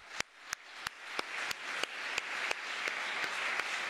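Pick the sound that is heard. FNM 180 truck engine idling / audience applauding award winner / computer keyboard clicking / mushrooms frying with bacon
audience applauding award winner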